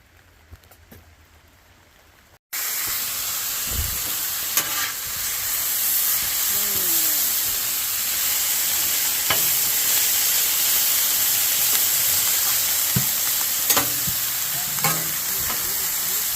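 Cut-up beef roast for Philly cheesesteaks sizzles on a Blackstone griddle at a truck campsite. A steady loud frying hiss runs throughout. Scattered scrapes and taps of a spatula stir the meat.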